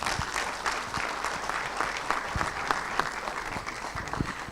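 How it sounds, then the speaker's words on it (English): Sustained audience applause at a national summit on substance use and illicit trafficking, a dense steady clatter of many hands filling the hall without a break, no voices on top. "Let's give her another round of applause."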